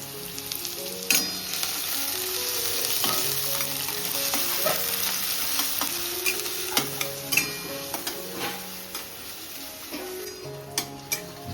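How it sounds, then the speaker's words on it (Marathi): Chopped onion and tomato fry in an oil tempering with chilli and garlic, a loud steady sizzle broken by the tick and scrape of a stirring spoon against the pan. "बघू शकता फोडणी रेडी झाली आपली मस्त. कांदा टमाटा मऊ पडले."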